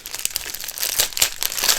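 Plastic packets of diamond painting colour drills crinkle and crackle close up as they are torn open, a dense run of rustling bursts with sharper crunches throughout.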